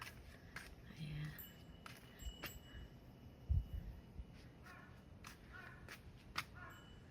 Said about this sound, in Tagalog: Narinig yung uwak.